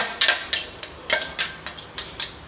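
Herb paste for frog curry being stir-fried in a little oil in a pan, heard as a series of sharp metallic scrapes and clinks from a utensil working the pan, about eight strokes in an irregular rhythm, close and fairly loud.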